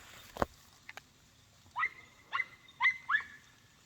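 Hound puppies barking, several short yips and barks in quick succession at moderate distance, with a couple of sharp knocks just before.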